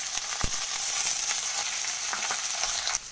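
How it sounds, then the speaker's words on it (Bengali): Chopped onion frying in mustard oil with dry red chilli, bay leaf and nigella seeds, a steady close sizzle with scattered crackles and a few light utensil scrapes, ending abruptly. "এরপর আমি কুচিয়ে রাখা পেঁয়াজটাকে ছেড়ে দিলাম।"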